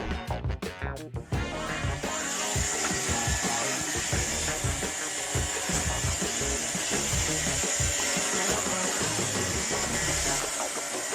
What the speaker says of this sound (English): You'd think they make life easier, but sometimes these robot vacuums are just a total headache.